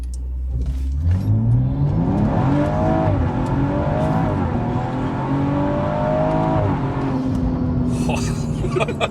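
A modified BMW M135 on Michelin Pilot Sport tyres accelerates hard from a launch with brief wheelspin in first gear. The engine rises loud and close through rising harmonic sweeps, with a faint squeal near the end and no talking.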